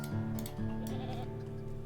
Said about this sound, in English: Nervous goat.